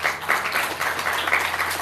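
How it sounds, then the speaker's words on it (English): An audience at a women's campaign event in Nassau County applauds steadily, a dense wash of many hands clapping indoors, continuous and moderately loud with no voices over it. "A big round of applause for them, please."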